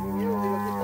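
A cow lets out a short, loud moo close by as cattle are driven into a chute for vaccination, a single sustained low bellow filling the brief moment.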